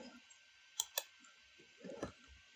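A computer mouse clicks to choose the Hindi subtitle option: two sharp, close clicks a fraction of a second apart, then a faint rustle of handling in a quiet room.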